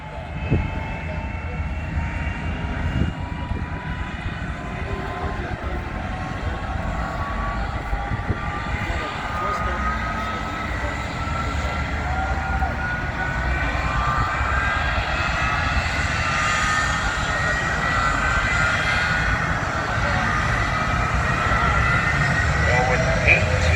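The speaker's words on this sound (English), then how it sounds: "The thrust just like a jet engine at an airport." A roaring jet engine on a jet-powered drag racing truck blasts continuously, a broad thundering rush that builds slightly in loudness as it goes, with no pauses.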